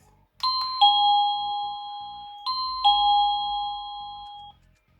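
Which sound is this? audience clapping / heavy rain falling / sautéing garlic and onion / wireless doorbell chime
wireless doorbell chime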